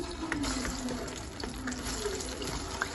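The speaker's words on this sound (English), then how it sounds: "The next thing is to fry the plantain." Plantain slices fry in hot oil, giving a steady, close, even sizzle and bubbling hiss that carries on without a break and without any talking.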